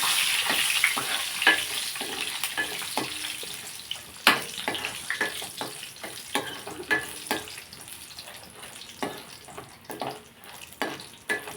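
Eggs fry in a pan after fried vadiyalu, a soft continuous sizzle broken by repeated sharp clicks and scrapes of a utensil against the pan, close up with no talk.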